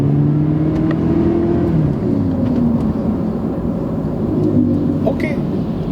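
A 2004 Toyota Land Cruiser Prado fitted with a Kijang Innova engine, heard from inside the cabin as it pulls away, a steady low engine drone rising gently in pitch under road rumble.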